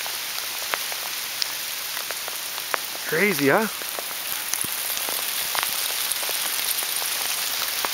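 Spring hail storm pelting a freshly seeded lawn on Salt Spring Island, a dense continuous patter with sharp scattered impacts, and a short spoken exclamation partway through.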